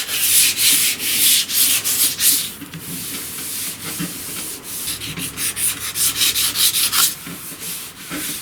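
Body filler on a 1969 C10 car door panel is sanded lightly by hand, giving a close, steady run of raspy back-and-forth rubbing strokes with a regular rhythm and no talk.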